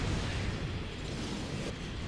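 A sniper cannon shot striking the player's mech in Armored Core For Answer, a loud sustained roaring blast of broadband noise filling the whole moment, with no talk over it.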